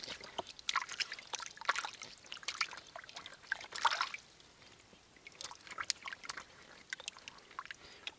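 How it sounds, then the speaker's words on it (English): Cold water trickles and splashes intermittently as wild roots are rinsed outdoors in the Canadian mountains, close-up bursts of dribbling and sloshing that fade to quieter trickling. "Wash off some of these roots."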